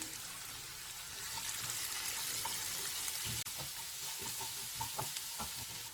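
Jackfruit seed masala sautéing with chili powder in a pan, a soft steady sizzle with light scraping and stirring clicks, fairly quiet and close, no talking.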